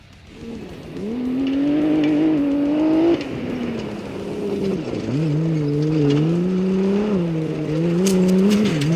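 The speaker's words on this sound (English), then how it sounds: "The 832 of Owen Ward coming home in 2nd with a good gap back to the Nava-sponsored Mar-Hose pairing." Race car in a desert off-road race, engine droning loud and steady with rising and falling pitch as it passes close by, no voices.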